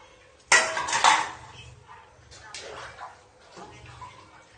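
Dishes being scrubbed and washed with soap and water: clattering pots and clinking utensils with splashing, loud bursts then quieter handling, while people talk nearby.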